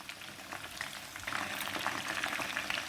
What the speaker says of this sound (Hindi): चलिए 5 से 7 मिनट में ये अच्छे फ्राई हो जाएंगे।